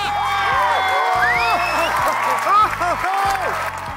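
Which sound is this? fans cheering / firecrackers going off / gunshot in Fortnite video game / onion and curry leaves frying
fans cheering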